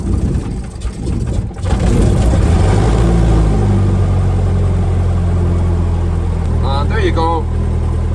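A fuel-injected piston engine of roughly 170 to 180 horsepower in a small aircraft catches after a short cranking stutter, then settles into a steady, loud, close rumble that runs to the end, with a brief voice over it near the close.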